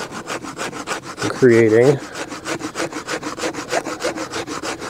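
Sharpened spine of a Garberg bushcraft knife scraping wood into fine dust for fire starting: steady rhythmic rasping strokes, close and fairly loud, with a brief spoken phrase partway through.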